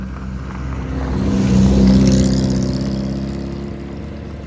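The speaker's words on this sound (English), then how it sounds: "It's a lovely noise, this car, when you're running it." A car engine running while driving, a steady mid-pitched hum that swells to a peak partway through and then eases off slightly. It is close and continuous, with no voices.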